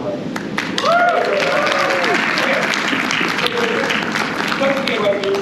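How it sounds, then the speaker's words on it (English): An audience at a Confuror 2023 convention stage show claps in sustained applause, with crowd voices and whoops over the clapping throughout. "round of applause, everybody"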